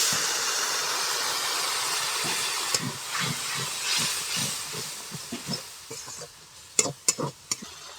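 Spice paste of tomato, cumin, coriander, turmeric and a splash of water sautéing in a pan, a steady hiss broken by scraping stir strokes that grow sharper and more distinct toward the end, with no voices.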